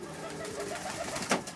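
Domestic pigeons in a dovecote in Shakhty, with soft low cooing running under a steady background hum and one brief louder burst near the end.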